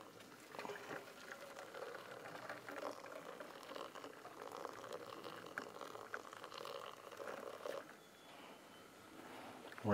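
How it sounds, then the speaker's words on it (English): Water boils in a pot on a Trangia camping stove, giving a quiet, steady bubbling and pattering simmer heard close up with no talk. "we got a pretty boil"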